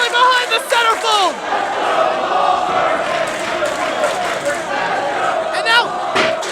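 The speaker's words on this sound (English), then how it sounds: "This crowd trying to rally behind the centerfold." A wrestling arena crowd cheers and shouts in a steady, loud roar during a match, with a commentator talking over the noise throughout.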